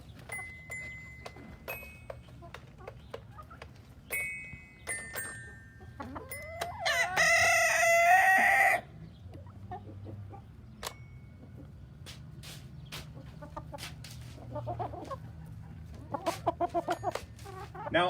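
Chickens cluck and a rooster crows around a small xylophone sprinkled with millet seed, with scattered bright metallic tinkling taps on the bars mixed among the near, busy clucking and one loud sustained crowing burst midway.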